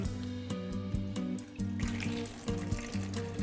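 About a liter of water runs into a stock pot holding rough-cut vegetables and daepa for Korean banquet noodle soup stock, a steady close pour with a pitched splashing tone.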